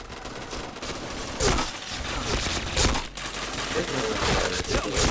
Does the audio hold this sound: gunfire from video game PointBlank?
yes